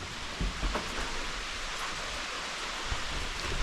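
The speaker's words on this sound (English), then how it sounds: "Of course, it's raining today." Steady rain falls outside an off-grid cabin, a soft even hiss with a few faint thumps and drips, heard alone without voices.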